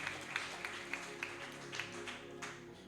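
A church congregation claps for Jesus at an Easter service, a rhythmic run of hand claps at a steady beat, moderately distant and blended with a reverberant hall sound.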